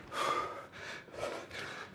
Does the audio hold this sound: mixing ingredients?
no